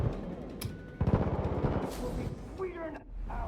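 A Vector submachine gun fires in Far Cry 5 in a quick burst of rapid shots amid other game sounds, and someone talks over the gunfire.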